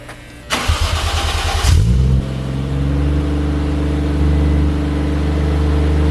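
A Toyota JZX100 fitted with an HKS Hi-Power exhaust cranks for about two seconds with the starter whirring, then catches and settles into a steady, deep idle with a slight rise in pitch partway through.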